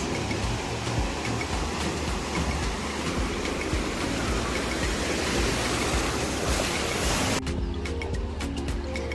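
In the wave pool at Sun City's Palace of the Lost City, surging waves crash in a loud, continuous wash of churning water that drops away sharply near the end, leaving a lower background rumble.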